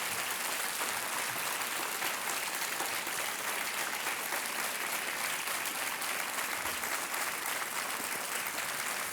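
Studio audience on the Indian quiz show Kaun Banega Crorepati applauds in a dense, unbroken wash of clapping that stays steady and full for about nine seconds.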